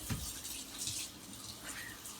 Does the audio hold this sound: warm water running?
yes